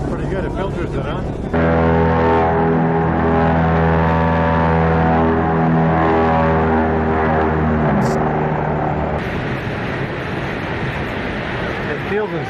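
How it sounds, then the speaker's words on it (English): An Everglades swamp airboat's airplane-style engine roars loudly and close, a steady droning hum that holds for several seconds before dropping away. "They've got that airplane engine in it."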